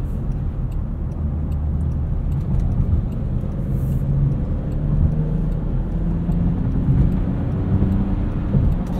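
Cabin sound of a 2021 Jaguar F-PACE P400 R-Dynamic S cruising on a highway: a loud, steady low rumble of road and engine noise with wind, and no talking.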